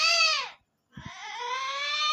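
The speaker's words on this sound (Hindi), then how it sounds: "दो बिल्ली है एक साथ में।" Two cats meow near a goat farm, a long drawn wailing call fading out, a short pause with a couple of soft thumps, then another sustained, loud tonal yowl.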